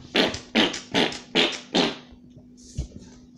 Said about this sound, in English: I think he added farting noise to his thing.